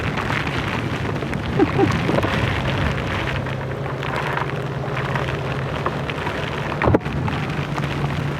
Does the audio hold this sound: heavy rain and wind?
yes